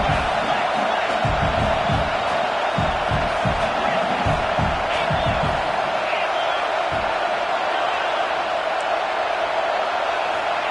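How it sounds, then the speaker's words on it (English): A home crowd roars continuously in College Football 26, a dense wash of cheering and noise that holds steady throughout, with thumping impacts in the first half. "Man, this crowd really affecting the football game."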